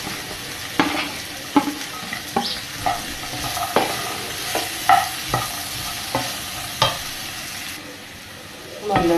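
Okra tossed with tomato sizzles in a pan, with a steady frying hiss broken by repeated sharp stirring scrapes and spatula knocks at an irregular rhythm, close up with no talk.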